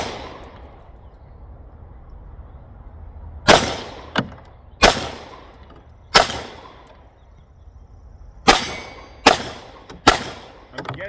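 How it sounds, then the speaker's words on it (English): Pistol shots from a .38 Super STI Grandmaster fired at targets 25 yards away at an outdoor range: seven sharp, loud reports in two uneven groups, a single shot and then tight pairs, each ringing off over steady background noise with no talk. "Point shooting a 38 Super from 25 yards."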